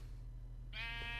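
A Minecraft sheep lets out a single short bleat over a steady low hum of game background noise, fairly faint and alone with no talking.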